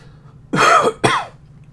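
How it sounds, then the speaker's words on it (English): Two short, sharp coughs in quick succession, close and clear against a quiet background. "Cut some coughs into this."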